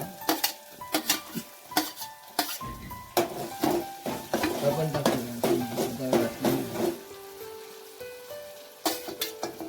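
Masala frying in oil is stirred in a pan, with repeated metallic scrapes and clinks of a spoon against the pan over a light sizzle, while a person talks partway through.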